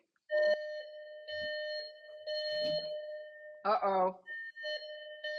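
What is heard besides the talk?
driveway alarm chiming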